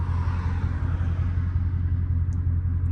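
Low, steady engine rumble from a Dodge Scat Pack automatic car, a deep droning hum that holds close and even for a few seconds, with no clear downshift blip standing out.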